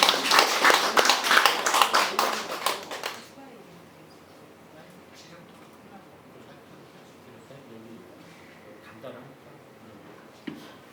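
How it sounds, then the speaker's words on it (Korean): A short burst of audience applause at a commemorative panel discussion in Jeongeup, lively clapping for about three seconds that quickly gives way to quiet room tone with faint shuffling. "다시 한번 뜨거운 박수 보내주십시오"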